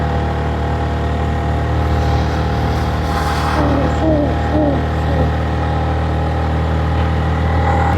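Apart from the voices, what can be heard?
motorcycle engine straining uphill in first gear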